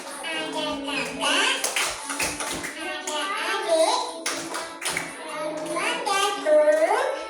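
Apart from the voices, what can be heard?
children clapping in a family clapping game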